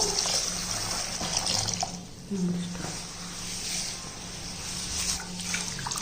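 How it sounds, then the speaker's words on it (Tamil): Water pours in a steady hissing stream onto pearl millet grains, fairly close, running continuously with slight changes in flow. "இப்போ இந்த 1 கிலோ கம்பில் நம்ம தண்ணி ஊற்றிக்கிடுவோம்."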